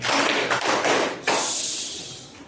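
A group of people claps hands together in a short rhythmic pattern: a few dense, overlapping bursts of claps, then a trailing wash of sound as the clapping fades.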